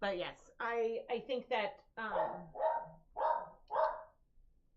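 A pet dog indoors barks repeatedly in a rapid series of sharp yaps, fairly close, while someone speaks briefly between them.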